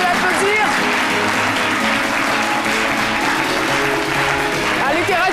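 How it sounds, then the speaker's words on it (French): A studio audience on a French-language midday television show breaks into sustained, dense clapping that fills the whole stretch at a steady, loud level. "Merci de l'applaudir."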